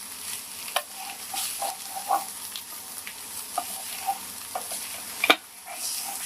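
Bitter gourd peel being stirred in a pan for a karela vegetable dish, a quiet sizzle broken by scattered scraping taps of the spoon and one sharp clatter near the end.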